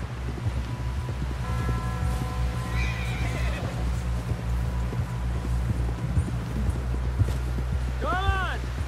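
Horse whinnying in Red Dead Redemption 2, a rising neigh near the end over steady hoof clip-clop and rumbling game ambience, with speech and music throughout.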